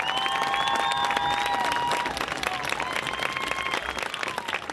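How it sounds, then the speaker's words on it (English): A stadium crowd at a high school football game applauds the Hillsdale Marching Band alumni with sustained clapping. Whistles and scattered cheers rise above the applause throughout. "Please give a round of applause for our Hillsdale Marching Band alumni"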